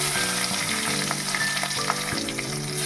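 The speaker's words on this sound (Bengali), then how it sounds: "তেলের মধ্যে একটু কাঁচা কালো জিরে দিয়ে দেবো পর কাঁচা লঙ্কাগুলো দিয়ে দেবো" Green chillies and black cumin (kalo jeere) frying in hot oil, a loud, continuous close-up sizzle with faint crackles and a few light utensil taps, no voices.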